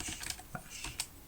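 Typing on a computer keyboard with a non-English layout, a few quick soft key taps spread over a brief moment, close but faint, with no voices.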